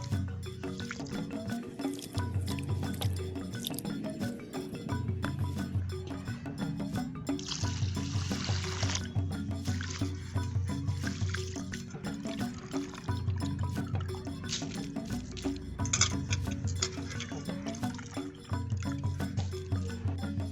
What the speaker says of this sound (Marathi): हे तांदूळ मी आता स्वच्छ धुवून घेणार आहे एक दोन वेळा स्वच्छ धुवून घ्यायचे